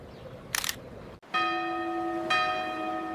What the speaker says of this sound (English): The church bells rang at noon.